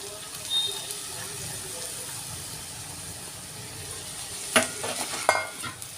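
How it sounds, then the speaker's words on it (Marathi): Sprouted mung beans tumble into a hot, fragrant pan and are stirred, giving a steady soft sizzle with a couple of sharp scraping clatters near the end and no talking. "तर त्यामध्ये आपण हे मूग आहे ते घालून घेऊ"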